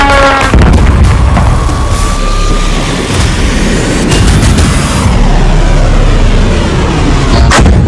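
Iranian missiles striking Israel, heavy explosions and booming blasts rolling one after another, loud and close, with sharp cracks and a lingering rumble between impacts.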